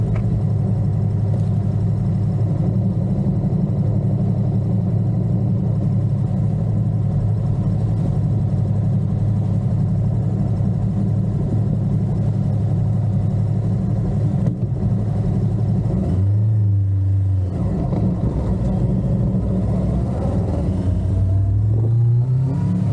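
A Voge Valico 525 DSX motorcycle idles with a steady, loud, close mid-pitched rumble by the Dnipro river in Kyiv, then revs in two swelling bursts as it moves off.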